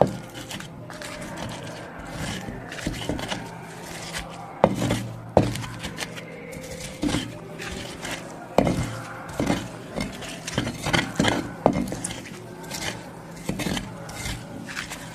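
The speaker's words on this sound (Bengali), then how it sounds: "এখন বাটনা ফুসনিতে এগুলো সব ভালো করে মিক্স করে নেব" Mashed yardlong beans with salt and mustard oil are mixed on a stone grinding slab, giving irregular knocks, scrapes and squelchy rubbing at close range with no talk.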